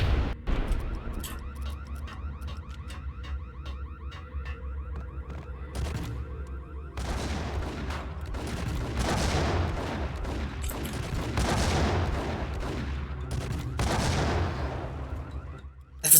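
Gunfire in the Max Payne video game, a long stretch of loud rapid shots and bursts over a droning game soundtrack, with dense volleys clustering toward the middle and end.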